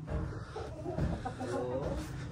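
Several chickens cluck and murmur close by in a continuous low chatter, with a dense farmyard hubbub around them, where large Shamo gamefowl are kept.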